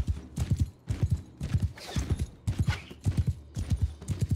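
Horse hooves gallop in Mount & Blade II: Bannerlord, a steady, rhythmic run of close, heavy thuds that continues through the whole stretch with no talking.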